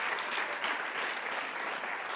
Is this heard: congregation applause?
yes